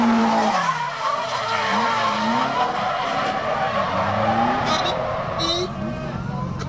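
Drift car tyres screech and skid into a spin at YZ Circuit in a video game drift battle, with continuous squealing over a wavering engine note and a few sharp scrapes late on.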